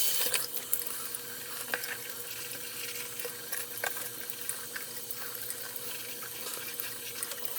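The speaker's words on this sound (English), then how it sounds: "I'm going to rinse this off" Tap water runs steadily into a sink while toothpaste is rinsed off a shoe, a faint, continuous splashing flow with small spatters and knocks.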